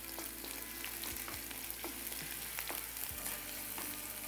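Small onions and curry leaves fry in hot oil with a steady, moderately faint sizzle and a few soft stirring clicks, with no talking.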